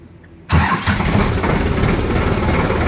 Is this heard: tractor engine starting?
yes